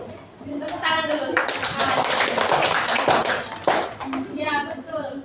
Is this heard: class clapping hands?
yes